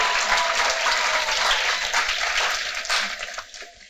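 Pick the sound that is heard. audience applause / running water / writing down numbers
audience applause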